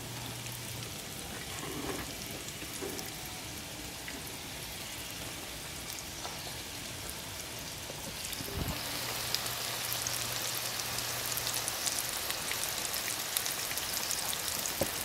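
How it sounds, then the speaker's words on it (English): Chicken fried deer steaks frying in a skillet, a steady, soft crackling sizzle like light rain that continues throughout and grows slightly brighter in the second half. "You'll cook them on that side till you start seeing the edges brown, then you flip them over and finish browning them."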